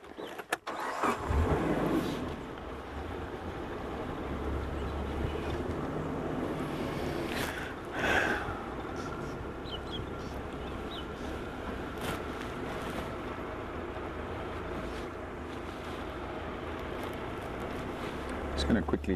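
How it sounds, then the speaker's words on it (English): A safari vehicle's engine hums steadily while it turns around in the bush, staying at a moderate level, with a person talking over it and birds and faint rattles in the background. "Just going to quickly turn the vehicle around"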